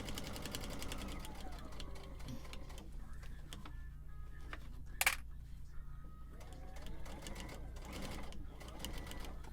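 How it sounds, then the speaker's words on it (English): Sewing machine stitching thick fabric for soup cozies in an RV, a steady close rhythmic whirring hum that runs throughout, with one sharp click midway and faint voice traces beneath. "It's thick when I'm sewing like this."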